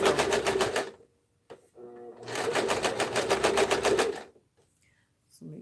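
Sewing machine stitching a fleece blanket in two fast rattling bursts, each a second or two long, separated by pauses with a short voice in between.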